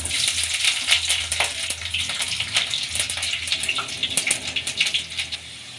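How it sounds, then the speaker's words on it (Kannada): Mustard seeds and green chilies sizzle and crackle in hot oil in a pan on the stove, a dense, steady frying hiss with sharp popping spurts that stays loud throughout, with no voices. "ಈಗ ಎಣ್ಣೆ ಕಾಯ್ದಿದೆ ಸಾಸಿವೆ ಹಾಕ್ಕೊಳ್ಳೋಣ ಹಸಿಮೆಣಸಿನ್ಕಾಯಿ"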